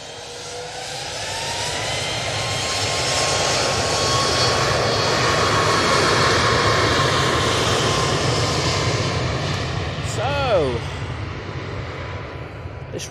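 A Ryanair Boeing 737-800 jet at Manchester Airport roars loudly, its engine noise swelling steadily to a sustained peak with a whining tone. Near the end a voice speaks briefly over it.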